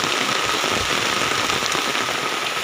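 Rain falls steadily near Burayok Mini Falls in Gattaran, Cagayan, a dense, even hiss of drops on surfaces that continues unbroken and fairly loud, with no voices.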